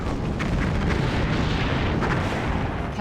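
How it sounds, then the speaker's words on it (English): Explosions rumble and burst in a Star Trek: Bridge Commander space battle, a dense, loud, continuous barrage of booming blasts with no talk over them. "I am detecting nearby explosions."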